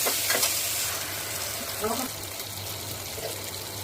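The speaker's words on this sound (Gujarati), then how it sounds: "હવે મસૂર એડ કરીશું અને મિક્સ કરી દઈશું।" Potatoes, chillies and lentils sizzle and crackle as a spoon stirs them through hot oil for a vegetable biryani, a continuous close frying hiss with scraping stirs.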